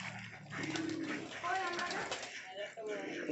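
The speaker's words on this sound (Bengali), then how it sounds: "এখানে সব পায়রাগুলো রয়েছে।" Lahori Siraj pigeons coo softly inside a home loft, continuous murmuring with faint rustles and a voice talking over it.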